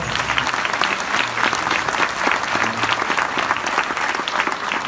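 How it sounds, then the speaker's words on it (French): A conference audience in a hall claps loudly and continuously, a thick, even wash of many hands with no pauses throughout. "On l'applaudit très fort."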